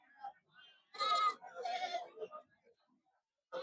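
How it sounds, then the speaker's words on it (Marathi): Goats bleat a few times close by at a livestock market in Shirur, short wavering calls with quiet gaps, and a bit of murmured voice in between. "आज शेळ्यांची आणि मेंढ्यांची आवक झालेली आहे"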